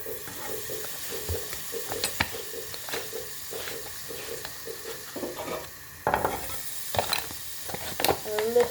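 Butter sizzles and crackles in a frying pan up close, with steady hiss broken by occasional scraping and clinks of a utensil stirring against the pan; a louder burst of frying comes near the end.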